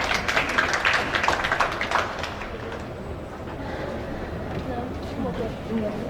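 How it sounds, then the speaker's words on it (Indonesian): An audience applauds at the opening of a literary library event in Jakarta, welcoming the provincial governor. A dense patter of clapping fills the first couple of seconds, then fades into a murmuring crowd with voices talking. "Kita beri tepuk tangan hadirin"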